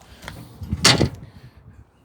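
Fold-out entry stairs at the back door of a 2021 Zinger 341RK travel trailer are pulled out, giving one sharp metallic clatter in the middle amid quieter handling knocks, close and fairly loud.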